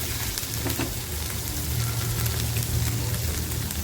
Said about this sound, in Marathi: आपला अद्रक लसूण कोथंबीर मिरची हे सुद्धा असं बार सॉरी फ्राय छान झालेलं आहे